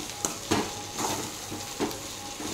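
Chopped vegetables tumble into a hot pan and are stirred, giving a soft continuous sizzle broken by several spatula scrapes and clatters at an uneven pace, close up with no voices.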